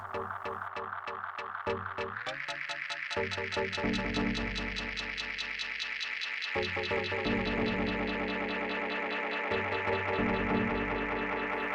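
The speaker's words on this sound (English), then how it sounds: "it starts like getting fed back through the filter cutoff" A sustained synth drone builds into a dense, ringing feedback wash with pulsing repeats and shifting tone as delay pedal feedback runs through the filter cutoff, steady and fairly loud throughout, no voices.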